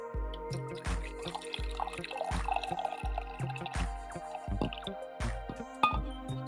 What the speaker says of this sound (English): One more pour here. Final pour.